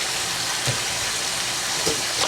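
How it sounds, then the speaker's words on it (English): Hot water runs from a kitchen tap while alcapurrias are being made, giving a continuous dense hiss with a few small splashes and no talk. "I have hot water going."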